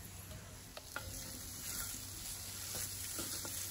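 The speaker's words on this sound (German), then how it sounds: "Fügen wir die Zwiebel hinzu. Ja, und? Und Ingwer." Onion and ginger sizzle and fry with meat in a pan for a Thai red curry, a steady soft crackle with occasional stirring scrapes, close and even throughout.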